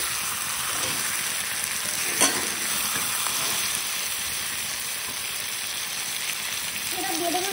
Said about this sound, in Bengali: মশলা পুরো কষানো হয়ে গেছে মাংসটা